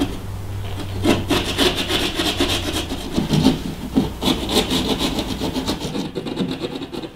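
Drywall being cut slowly by hand with an X-Acto knife and a drywall saw, giving steady scraping and rasping strokes with a repeated rhythm, close and fairly loud, with a low hum beneath.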